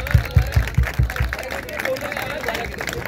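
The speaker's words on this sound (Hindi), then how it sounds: "जोरदार तालियां।" Applause at an office certificate distribution event, starting with a few loud, evenly spaced claps and settling into a softer spread of clapping and crowd murmur.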